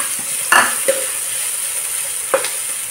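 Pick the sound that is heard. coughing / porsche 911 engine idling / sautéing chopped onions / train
sautéing chopped onions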